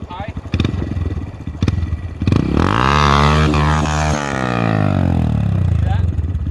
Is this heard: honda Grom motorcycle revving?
yes